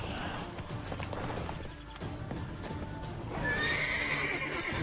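In the Eve Online video game, a horse's hooves clip-clop over a rustling ambient bed, then a whinny rises near the end, moderately loud and close, with no speech.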